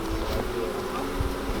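Honeybees from an opened hive colony, fairly aggressive from frequent inspections, make a dense, steady buzzing drone close by, continuous throughout.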